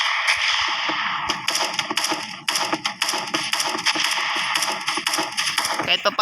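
AK-47 rifle gunfire in a video game, rapid sharp cracks in uneven bursts over a dense, continuous game soundscape, loud and close.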